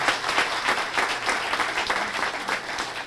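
An audience applauds steadily throughout, dense continuous clapping at a moderate level welcoming New Mexico Governor Susana Martinez at a press conference in Taos.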